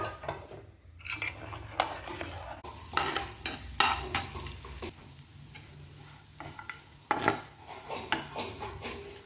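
Grated dried coconut and almonds roasting in ghee in a pan for urad dal payasam, a light sizzle under repeated scraping and clinks of a metal spoon, close and fairly quiet, no talking.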